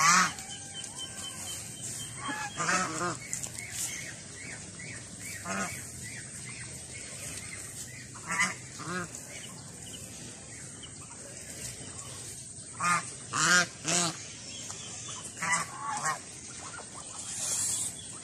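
Pet ducks honk and quack in repeated short bursts and clustered calls over a steady background hum, fairly close, with occasional faint voices.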